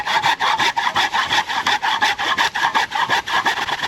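Handsaw cutting through the trunk of a small tree while a garden is being cleared, a steady, loud back-and-forth rasp of about three strokes per second, close up and with no talk.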